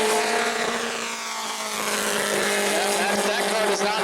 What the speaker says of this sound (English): That car does not sound right.